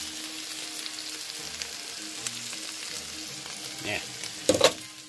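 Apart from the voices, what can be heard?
sauce sizzling in a frying pan with butter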